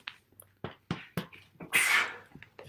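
A single sharp sneeze bursts out midway, loud and close, between scattered short knocks and muffled sounds.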